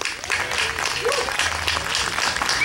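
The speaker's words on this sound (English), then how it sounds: "another round of applause" At a jazz quartet performance, an audience applauds a singer with dense, continuous clapping that fills the room at full volume, with a few voices mixed in.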